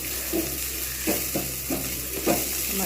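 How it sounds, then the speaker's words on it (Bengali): Onions fry in hot oil in a pan with a steady, close sizzle, broken by soft scraping strokes of stirring at an irregular pace, while a kitchen exhaust fan hums loudly underneath. "এবার বাকি তেলটাতে আমি পেঁয়াজগুলো ভাজবো ভালোভাবে"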